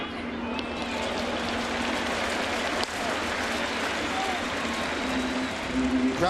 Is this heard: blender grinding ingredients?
no